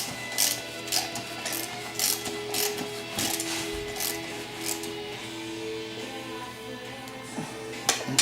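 A ratchet tightens a 3/8 12-point semi-support bolt on a TH 400 transmission, making close, rapid clicking pawl ratchets in repeated bursts with short pauses between strokes, with no voices.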